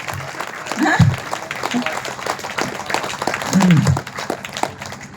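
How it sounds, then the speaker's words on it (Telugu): A burst of audience clapping spreads through a crowd, mixed with voices talking over it and fading in and out. "గట్టిగా క్లాప్ చేయాలండి"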